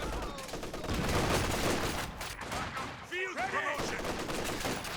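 Rapid machine gun fire and battle noise from the video game Company of Heroes 2 during a 1v1 match, a dense continuous clatter of shots with explosions mixed in, fairly loud throughout, with a brief voice-like sound near the end.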